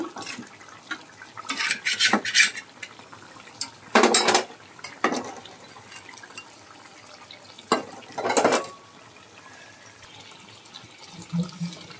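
Puti fish tipped into a pan of radish curry, a few sharp metallic clatters and spoon scrapes against the cookware in separate bursts with quiet gaps between, close by and without talk.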